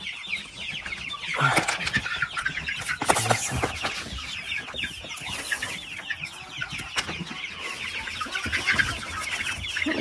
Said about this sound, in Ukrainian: тут в мене красотульки, курчатка